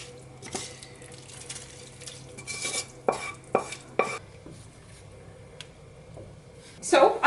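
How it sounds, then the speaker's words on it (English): A cook stirs dressing into a pot of borsch soup with boiled potatoes, giving scattered scrapes, clinks and sloshes of cookware with a brief water burst at the end, and a person talks between the sounds. "now I'm adding the dressing into the soup"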